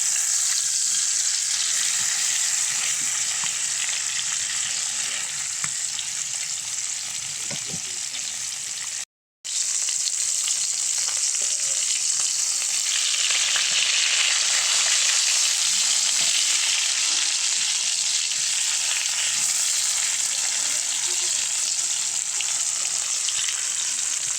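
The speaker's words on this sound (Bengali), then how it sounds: "চলছে মাছ ভাজা, ইলিশ ফ্রাই, ইলিশ ফ্রাই।" Hilsa fish pieces frying in plain oil with no water, giving a loud, close, continuous hissing sizzle with faint bubbling, broken by one brief silent gap.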